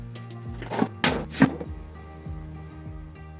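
A coal-burning stove being reloaded with fuel, a few heavy close thunks and clanks of metal and coal in quick succession, then quieter lighter knocks trailing off.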